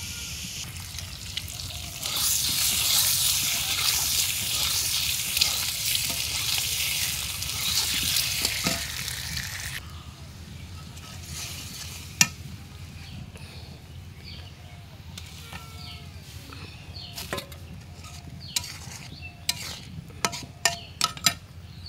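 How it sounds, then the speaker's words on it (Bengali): Potatoes fry in a pan with a loud, bright sizzle for the first ten seconds, then settle into softer bubbling broken by sharp clicks and scrapes of stirring; a voice speaks faintly now and then. "আলু ভাজা হয়েছে।"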